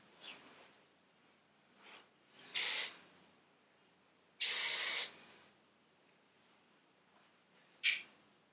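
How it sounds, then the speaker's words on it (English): Big Sexy Hair Spray and Play hairspray is sprayed in short hissing bursts, two longer blasts and a quick final puff, close and fairly loud with quiet pauses between them. "this is the Big Sexy Hair Spray and Play Hairspray"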